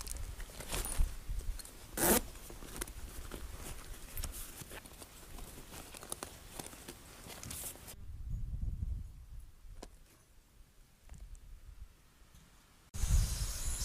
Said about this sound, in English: this is where the zipper starts